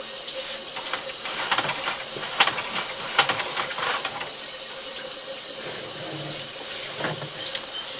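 Water running and flushing through a residential sewer line in Cheviot, Ohio, a steady broadband wash with scattered splashes and gurgles, continuous and fairly close throughout.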